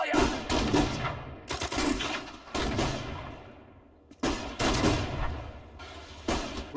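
Repeated bursts of heavy gunfire in a Sudden Strike 4 battle during the Operation Market Garden mission, with several loud volleys separated by brief lulls, and short shouted voices mixed in.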